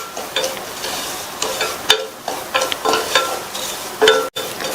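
Semolina (rava) stirred and roasted in ghee over a low flame, a steady gritty scraping and soft sizzle with repeated spoon strokes against the pan, close and moderately loud, with no talking.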